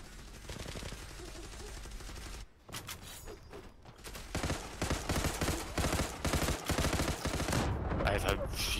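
Bursts of automatic gunfire and single shots from weapons in the online shooter Zula, loud and dense, starting as a steady stream and then breaking into rapid clustered volleys with short gaps.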